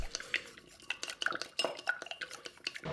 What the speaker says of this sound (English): Fully mix them up with a chopstick and then set aside.